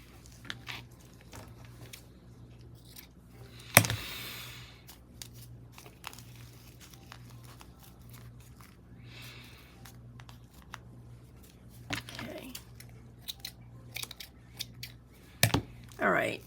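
Scissors snip through a ribbon bow on a vintage lace craft tag, giving one sharp close cut followed by faint crinkling and handling of paper and ribbon in a quiet room.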